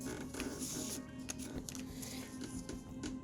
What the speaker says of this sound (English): I keep bumping this thing that keeps making a squeaking noise